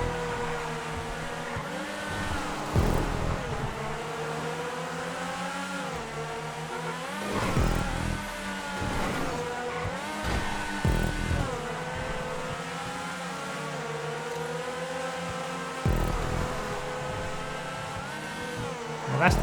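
Cars racing in GTA 5 car-versus-car races, a continuous roar of revving engines rising and falling with gear shifts and bursts of acceleration, loud and close, with faint talk underneath.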